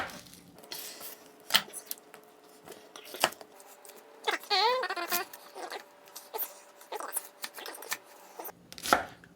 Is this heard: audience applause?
no